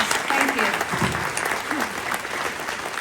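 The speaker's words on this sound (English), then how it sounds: "round of applause, thank you" A crowd claps steadily at a UN Day 2025 event, with a voice faintly audible beneath the applause.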